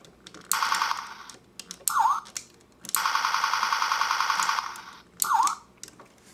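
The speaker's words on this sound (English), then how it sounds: "his little visor will glow red when you make the gun firing and the" An electronic toy siren from a Transformers Universe Onslaught figure wails in two long warbling bursts, each followed by a short zapping chirp, with brief quiet gaps between.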